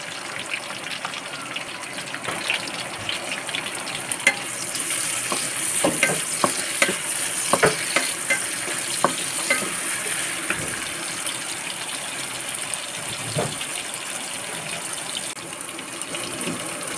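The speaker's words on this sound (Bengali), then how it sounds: "তারপরে দিয়ে দিলাম পেঁয়াজ কুচি" Loud, continuous crackle of chopped onion frying in oil with broken dried chillies, bursts of stirring and scraping against the pan, spattering clicks scattered throughout.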